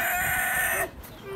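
Chicken at a Canton First Monday Trade market stall, a loud close squawking crow that breaks off abruptly, followed by quieter clucking and background market noise.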